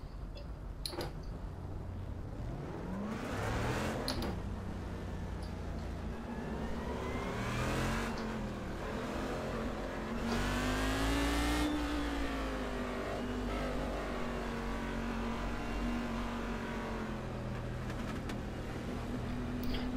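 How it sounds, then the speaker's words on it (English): A race car in iRacing at Phillip Island revs hard and accelerates, its engine pitch sweeping up and down through gear changes with exhaust crackle, loud and close throughout. "The crackle of the exhaust,"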